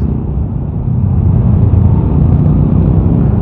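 Manual-gear motorcycle accelerating in second gear on a main road, a loud continuous engine drone and rumble with wind noise, steady and close throughout.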